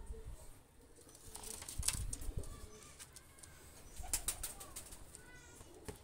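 Running Pakistani high flyer pigeons cooing softly, with low murmuring coos, a few wing flutters and light shuffling nearby, fairly faint overall.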